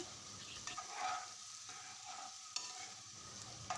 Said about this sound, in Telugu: ఈ మొత్తం అయితే బ్రౌన్ కలర్ వచ్చేంత వరకు ఫ్రై చేయండి